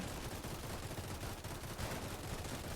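Rapid, dense gunfire from defensive towers in a Roblox tower defense game rattles on without pause, a steady crackling barrage of overlapping shots.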